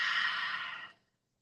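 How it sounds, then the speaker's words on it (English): Deep, slow exhalation during a fascial movement exercise class, a single close breath-out with a breathy rush that fades to silence after about a second. "Making sure we're breathing."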